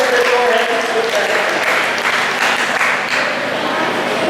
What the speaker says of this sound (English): Nicole Barr, everybody, give her a big round of applause